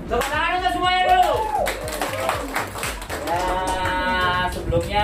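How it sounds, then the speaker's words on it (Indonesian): An audience at a community gathering with migrant domestic workers in Hong Kong claps in a quick, regular rhythm, with the crisp hand claps running steadily beneath loud voices. "tepuk tangan untuk semuanya dulu."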